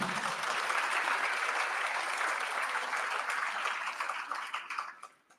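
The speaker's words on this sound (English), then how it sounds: "Warm applause." Warm audience applause at a public talk in Pretoria, dense and sustained clapping from many hands that holds steady, then fades out over the final second.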